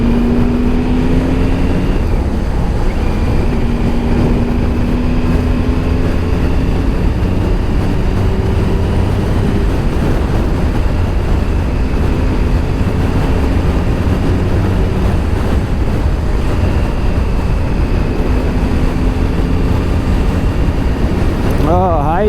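A Triumph Sprint ST 1050 motorcycle riding on a highway, its engine humming loud and continuous under heavy wind rush, with rising and falling pitch as the rider shifts and accelerates.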